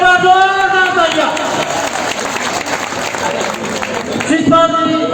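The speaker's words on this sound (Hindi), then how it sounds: "एक बार जोरदार तालियां" Loud crowd applause fills a village political rally, sustained clapping with harmonic voices and a speaker's amplified talk rising over it at the start and end.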